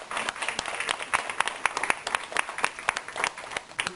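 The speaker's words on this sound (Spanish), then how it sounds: "Denle aplauso al Señor." Church congregation clapping for the Lord during a Sunday sermon, crisp dense handclaps with many distinct sharp hits, steady throughout at moderate volume.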